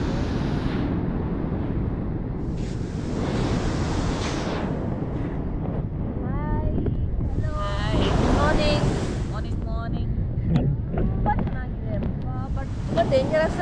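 Ocean waves wash onto a beach at night near Mangalore, a steady broad roar with wind buffeting the microphone, while a voice talks over the surf in the middle and later part.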